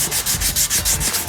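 Sandpaper rubbed by hand over fiberglass body work, a close, rhythmic back-and-forth scratching of about half a dozen quick strokes, alone without talk.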